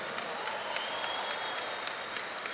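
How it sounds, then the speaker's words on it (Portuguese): A short burst of audience applause at a church conference, dense steady clapping from a crowd that keeps an even level throughout. "Forte aplauso para o pastor Felipe Parente, nosso tradutor que arrasa."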